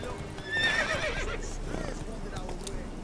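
Geralt's horse Roach whinnying in The Witcher 3: a clear high, wavering neigh up close with hoof shuffling, over a low background murmur, with a voice speaking.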